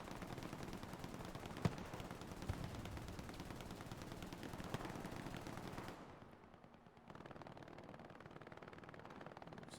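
Machine gun hip fire in a 35v35 World War II-style multiplayer game match at Sainte-Mère-Église, rapid continuous bursts of gunfire with a couple of sharper shots, fairly faint, cutting off briefly before the clatter resumes.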